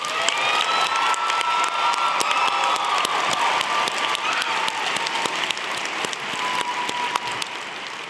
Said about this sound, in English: We now invite your applause for these graduates.